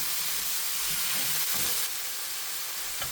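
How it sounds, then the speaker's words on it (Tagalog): Onion and minced garlic sautéing in hot oil: a steady, dense sizzle with a faint bubbling undertone, continuous and fairly close, without voices. "Ipainit na nato ang oil ug isotay na dayon nato ang sibuyas ug ang minced garlic."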